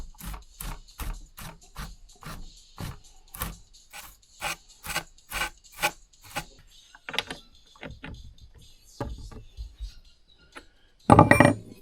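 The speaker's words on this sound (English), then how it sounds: "And this will scrub out the chainsaw real nice here." A brush scrubs a chainsaw in rhythmic, evenly spaced strokes, about a dozen close, dry rasps in a row, then scattered slower scrapes and a final louder burst of rubbing.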